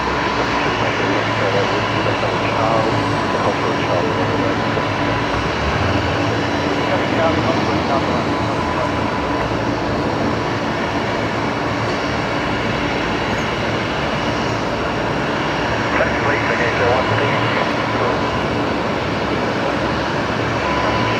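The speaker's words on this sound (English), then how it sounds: "I think this is the Link Airways coming in from Tamworth next. Saab landing on runway 19 left." A Link Airways Saab turboprop arriving from Tamworth lands on runway 19 left at Brisbane, giving a continuous engine drone and rumble at fairly steady loudness, with a faint hint of voices.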